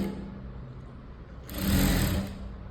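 A sewing machine stitches thread piping onto canvas cloth, running with a low steady motor hum before speeding into a louder, brighter whirring burst near the end.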